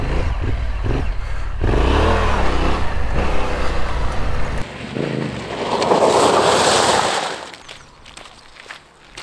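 Yamaha Tenere 700 adventure motorcycle doing a stop turn, its engine rumbling close by before a sudden braking stop, then a loud burst of tyre scrub and spray that fades to a quieter idle.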